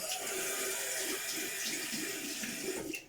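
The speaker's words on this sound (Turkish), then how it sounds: "Şimdi ilk önce gidip bir suyla bir yıkayacağım sizinle beraber" Water runs steadily from a tap throughout while something is washed under the stream, with a continuous splashing hiss and small shifts in flow near the end.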